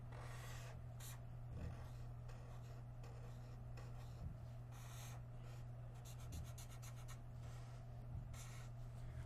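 Writing on a board to sketch a circuit during a physics lecture, with faint, scratchy marker or chalk strokes coming in short bursts over a steady low hum, with no talk.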